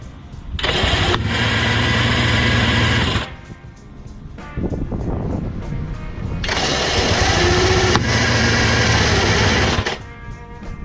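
A big bore two-stroke motorcycle engine is kicked over and fires in two loud, buzzing bursts of a few seconds each, separated by a quieter stretch of clattering and rustling.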